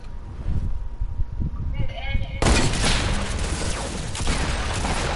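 Dense, sustained gunfire in a video game erupts loudly about halfway through and keeps going, with a bleat-like sound and a voice heard over it beforehand.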